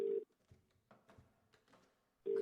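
An in-game telephone rings in short bursts at the start and end, with soft muffled movement and faint noises between the rings.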